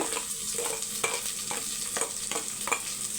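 Big onions fry and get stirred in a pan while making a millet and white sorghum lunchbox meal, a steady sizzle broken by regular scraping strokes of the spoon, close and fairly loud with no voices.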